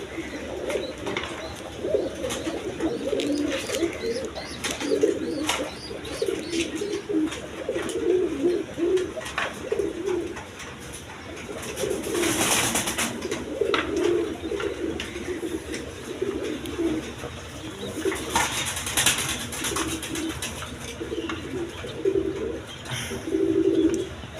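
A pair of pigeons at a loft, feeding their young, coo steadily and repeatedly in low, throaty rolling phrases, close and clear, with occasional brief rustling bursts in between.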